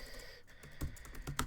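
Keys clack on a computer keyboard while a command is typed into a terminal, a quiet close run of uneven taps with a few louder keystrokes.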